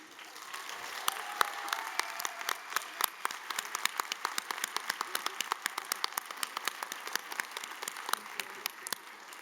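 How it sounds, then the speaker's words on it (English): Audience applause at a graduation ceremony, a steady dense clapping from a crowd sustained throughout at moderate distance, with no voices over it. "Can we please give a round of applause to Claudine?"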